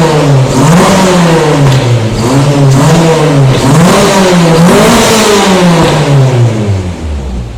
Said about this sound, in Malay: selesai sudahlah exhaust saya ni. Kita kasih dengar bunyi dia.